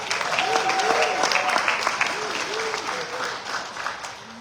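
Guests applaud themselves at a black-tie tenth-anniversary gala, sustained dense clapping filling the room with cheerful voices and whoops mixed in, easing slightly toward the end.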